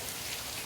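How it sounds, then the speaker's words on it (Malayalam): Rain falls steadily on a rainy day in Kerala, a soft, even hiss of drops heard faintly and alone in a brief moment. "ഈ മഴ പെയ്യുന്ന സൗണ്ടൊക്കെ കേട്ടിട്ട് ഇതെന്താന്ന് വിചാരിച്ച് അങ്ങനെ ഇരിക്കുവാണ്"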